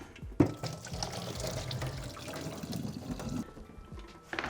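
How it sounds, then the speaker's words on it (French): Cooking water poured off boiled potatoes and celeriac into a sink, a steady close splashing gush that swells and fades slightly, then tapers at the end. "je vais retirer l'eau de cuisson"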